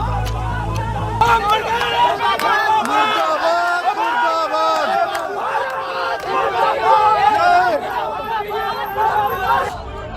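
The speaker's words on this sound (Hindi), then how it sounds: "गुस्साई भीड़ योगी सरकार के मंत्री ओपी राजभर के बंगले के बाहर हंगामा और पथराव" Angry crowd uproar outside minister OP Rajbhar's bungalow in Lucknow, a dense, loud roar of many shouting voices that holds steady throughout, with no individual impacts standing out.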